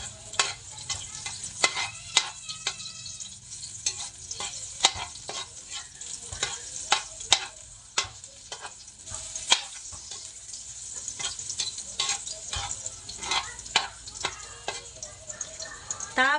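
Garlic sautés in a hot pan with steady sizzling and frequent sharp scrapes and clacks of a spatula stirring, fairly close and continuous, with no talk over it.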